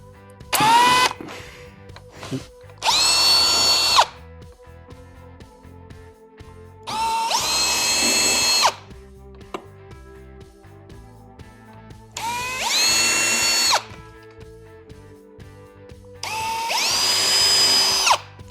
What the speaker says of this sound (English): we're going to drill the holes